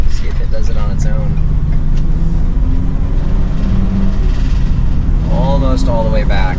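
A Ford E450 with a Safe-T-Plus steering stabilizer rounds a corner, its engine and road rumble a steady loud drone heard from inside the cab while someone talks throughout.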